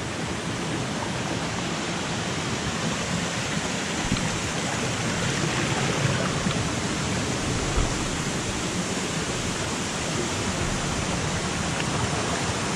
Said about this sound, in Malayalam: ഇതാണ് നമ്മുടെ മീൻമുട്ടി വാട്ടർഫാൾസ്